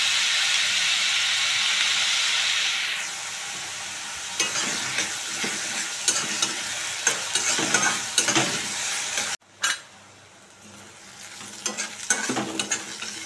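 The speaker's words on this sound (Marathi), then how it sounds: "कांद्यामध्ये आपण थोडेसे मीठ घालूया, म्हणजे कांदा लवकर आपला परतून होईल." Chopped onion with a pinch of salt is sautéed in a pan: a loud, steady sizzle at first gives way to repeated scraping and stirring strokes, with a brief break before the sizzling and stirring resume.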